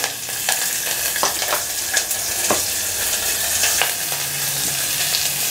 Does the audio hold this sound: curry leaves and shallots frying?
yes